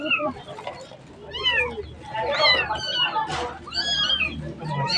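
Cats meow repeatedly at close range, a series of rising and falling mews of varying pitch, some overlapping, with people talking nearby.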